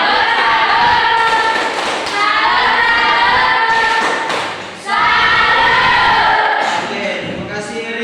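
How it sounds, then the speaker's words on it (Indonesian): A school classroom of students performs the Indonesian tepuk salut clapping chant, loud rhythmic clapping bursts mixed with voices chanting together, with a brief dip midway before the group resumes. "Tepuk salut dulu"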